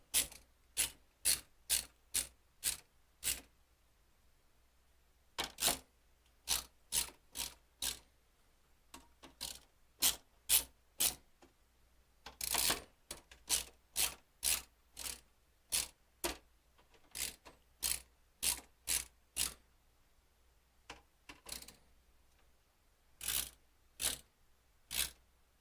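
Screws hand-tightened with a ratcheting screwdriver while building a Phanteks XT V3 PC, dry close clicks in quick bursts separated by short pauses, repeating over and over in a quiet room.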